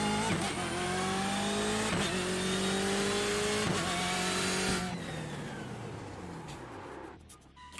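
A race car in the iRacing sim racing game brakes hard from speed, engine note dropping steadily through several downshift blips before fading near the end; loud, close and continuous with no speech.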